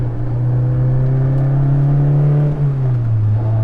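A Honda S2000 fitted with a GReddy Revolution RS exhaust drones with a deep, steady low hum at constant revs, the pitch sagging slightly near the end; loud and continuous with no talking.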